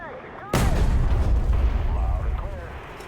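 A big 12.8 cm cannon on a flying Jagdtiger in a video game fires once with a sudden heavy boom. A long rumbling tail follows and fades slowly, with faint whining game sounds behind it.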